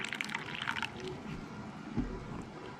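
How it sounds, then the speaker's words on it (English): Cold water poured slowly over coffee grounds for cold brew, a soft trickling, splashing pour that is close and moderately quiet, fading into light dripping. "the next step is to slowly pour cold water over the coffee grinds so as to dampen them"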